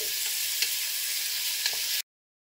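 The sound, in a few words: onions and coconut frying in pan for curry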